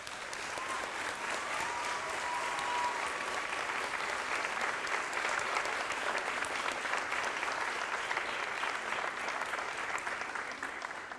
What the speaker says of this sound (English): I think that you need to give your parents a round of applause.